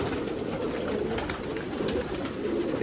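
Several pigeons in a decades-old loft on Subhash Road, Nashik, coo in low, overlapping, continuous murmurs at close range, with no voices.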